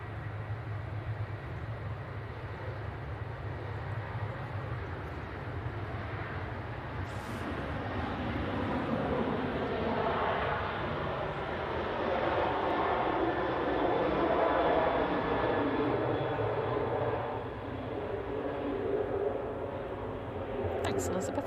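Ryanair jet taking off at Manchester Airport, a broad steady engine roar that swells through the middle and eases near the end, with a voice talking briefly over it.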